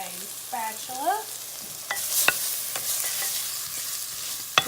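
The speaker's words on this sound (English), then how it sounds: "Give that a little stir in the butter, and I'm going to let that kind of saute and soften a little bit." Vegetables sauté in melted butter in a pan for potato soup, with a continuous close sizzle and several sharp spatula clicks and scrapes as they are stirred, and no voices.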